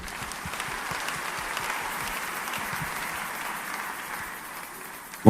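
A church congregation applauding at a Sunday service, a dense sustained wash of many hands clapping that continues evenly for several seconds before thinning slightly at the end.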